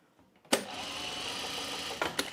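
A sewing machine stitches lightweight chiffon fabric in one short, close, steady run of whirring stitches that starts abruptly and stops with a faint click.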